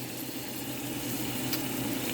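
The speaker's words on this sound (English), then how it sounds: "In my oil, I'm going to fry it" Oil frying in a pan for chicken curry, with thyme going in: a steady, even sizzle close by, holding at the same level throughout with no voices.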